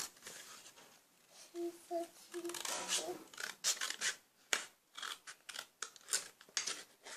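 Scissors cutting paper for a handmade Mother's Day gift, a series of quiet, irregular crisp snips and rustles close by, with a voice speaking at times.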